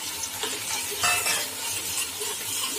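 Finely chopped onions frying in hot mustard oil in a pan, a steady close sizzle with soft stirring scrapes throughout and no voices.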